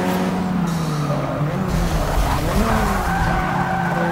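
Race car tires skid and squeal in Forza Motorsport 6 during a wet, rainy race, a loud continuous tire screech with wavering pitch over a droning engine, with no speech.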